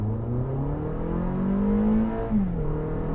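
A Toyota RAV4 hybrid pulls away hard from a stop, its engine note climbing steadily as it accelerates, with a brief dip before the revs rise again. It is heard from inside the car, with no one talking.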